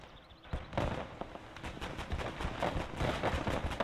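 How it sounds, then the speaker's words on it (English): Grenades detonate in a World War II style strategy game battle, several sharp blasts and crackling bursts stacked over continuous gunfire and rumble, dense and mid-distance throughout. "Get the grenades on"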